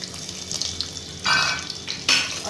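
Garlic browns in hot oil in a pressure cooker while dal palak is being made, giving a steady close sizzle with two louder surges of frying and stirring.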